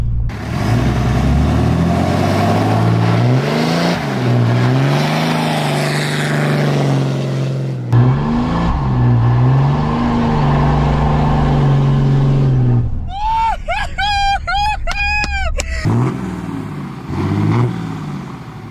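A Cummins diesel truck revs hard for a burnout attempt, its loud engine note climbing and falling in repeated surges, broken near the end by a brief shrill tire squeal before the engine roars on.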